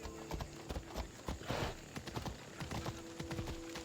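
A horse gallops in Assassin's Creed Odyssey, rapid rhythmic clip-clop hoofbeats close up with a brief burst of rustling midway.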